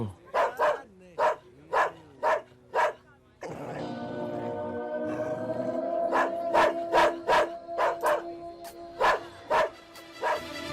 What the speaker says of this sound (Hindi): अरे भैया कोई ये कुत्ते को रोको भैया।